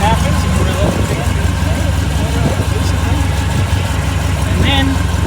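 A 1940 Ford COE custom rollback truck idles with a steady low engine rumble, close and loud, under faint background sounds.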